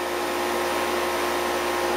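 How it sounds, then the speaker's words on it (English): 1995 4-ton Lennox air conditioner with its fan running in cooling mode, a steady loud whooshing rush of air over a constant low motor hum, unchanging throughout. "Here's that Lennox I filmed a while back running in cooling mode. That fan is unbelievably powerful."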